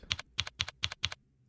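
Fingers type on a computer keyboard in a quick run of about six crisp clacking keystrokes in pairs, close and clear, with a brief pause before the last tap.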